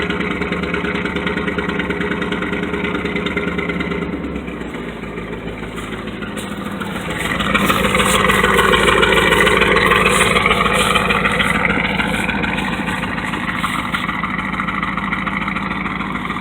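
A Chevrolet K5 Blazer truck engine idles with a steady low rumble, dipping briefly before rising to a louder, rougher running note that stays up, close to the microphone.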